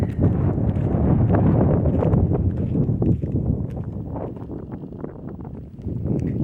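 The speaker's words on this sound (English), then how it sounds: "It's a little chilly with all the wind, but it's a pretty sunset." Gusty wind blows outdoors at sunset at a dispersed campsite among Colorado buttes, roaring and buffeting close to the microphone in a dense, uneven rumble that eases slightly near the end.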